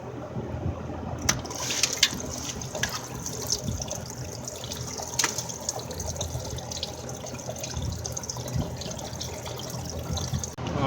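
Coolant from a 2008 Jeep Grand Cherokee pours out of the block heater plug hole into pails, a steady continuous splashing gush with a few brief clanks, close and fairly loud, running throughout with no talk.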